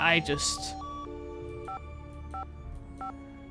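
Phone keypad tones from a Nancy Drew: Secret of the Scarlet Hand game phone, with a few short beeps spaced about a second apart after a brief voice at the start, over quiet background music.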